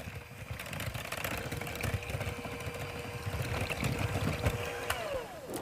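Electric mixer beaters stirring batter, a steady continuous motor whir with rattling texture throughout, close and fairly loud, no talking.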